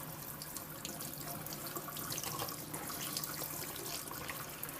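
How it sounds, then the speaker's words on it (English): A warm shower runs steadily, a soft continuous hiss of water spraying and splashing, faint and even throughout with no voices. "let me turn the shower off"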